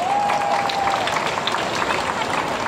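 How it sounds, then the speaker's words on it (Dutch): A crowd on Independence Square applauds at an outdoor Earth Hour gathering as the lights come back on, a broad continuous wash of clapping with a faint tone at the start and a few voices. "En ja, een applaus!"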